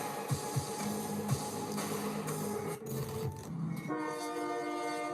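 Freight train known as the Beast in Central America, heard as a loud continuous rumble of rolling cars with steady tonal whine and horn-like harmonics, plus brief clanks, with no talking.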